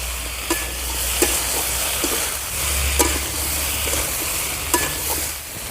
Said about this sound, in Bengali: ভেজে রাখা ব্রোকলি আর আলুগুলো দিয়ে দেবো ভালো করে মশলার সঙ্গে মিশিয়ে নেব